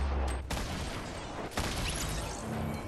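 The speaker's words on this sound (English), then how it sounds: "big firefight happening outside this house" A Fortnite firefight crackles with sharp gunshot bursts, a couple of loud cracks standing out over a dense, continuous backdrop of rattling fire and game noise, with no voices.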